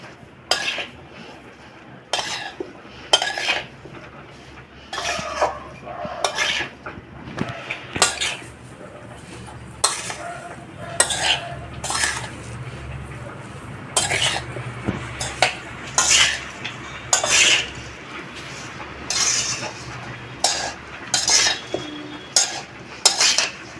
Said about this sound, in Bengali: এইবার কপিগুলো ভালো করে মাখিয়ে নেবো এগুলো দিয়ে।